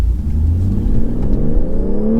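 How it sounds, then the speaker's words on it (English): The engine of a 2023 BMW X3 M40i at full throttle, a loud, continuous rising drone that climbs steadily in pitch, heard from inside the car with no talk. "I'll just floor it again from here just to show you"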